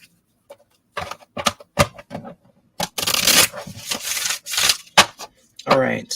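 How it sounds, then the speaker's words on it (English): A deck of cards is shuffled up close: quick papery riffles and rubbing, then a longer, denser flurry of cards, in a quiet room. "All right, one more shuffle."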